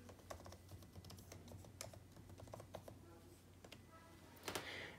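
Typing a password on a Mac keyboard: quiet, close key clicks tapping in an uneven run, with a slightly louder clatter near the end and faint speech in the background.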